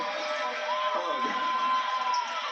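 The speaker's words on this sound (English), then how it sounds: "as you hear the round of applause for Ryan Elvin" A college basketball arena crowd at a Jackson State versus Houston men's game applauds and cheers a player, a broad, steady roar heard thin and distant beneath a commentator talking.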